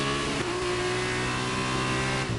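An F2 race car engine in a racing video game drones steadily at high revs, loud and close, holding a sustained tone with a slight dip near the end.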